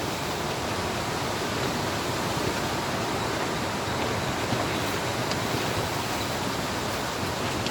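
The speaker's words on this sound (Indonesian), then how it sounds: "Bisa terdengar suara anginnya, wah mantap." Wind roars steadily around a mountain campsite on Gunung Kerenceng, loud and constant with no pauses and no voices.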